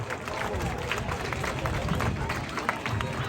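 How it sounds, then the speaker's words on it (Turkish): A crowd applauds at an outdoor bull wrestling event in Muğla, a steady, fairly distant rush of many hands clapping with crowd chatter and talk running underneath. "Pehlivan boğalarımız katil bozoyla Muhittin'e alkışlarla diyelim maşallah"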